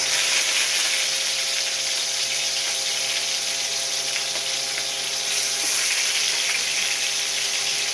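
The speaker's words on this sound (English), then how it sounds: "First, I am going to fry this fish." An American fish head sizzles in hot oil in a pan, a steady, bright, crackling fry that holds loud and unbroken, with a faint hum underneath and no voices.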